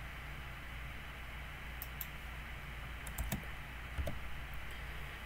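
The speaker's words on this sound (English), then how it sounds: "I am typing faster than what my computer is picking it up" Typing on a computer keyboard, with a few light, scattered key clicks against a quiet background hiss and no voices.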